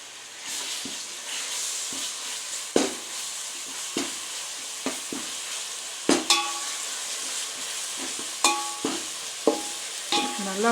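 Ginger-garlic paste frying with browned onions for country chicken dum biryani: a soft steady sizzle punctuated by sharp spoon scrapes and clinks against the pot at irregular intervals, with no talking.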